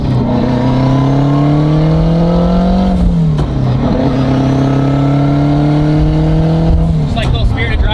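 A turbocharged all-wheel-drive Honda RSX with a sequential gearbox accelerates hard from inside the car, its engine note climbing loudly and steadily, dropping sharply at one rapid shift before climbing again, with a second shift near the end.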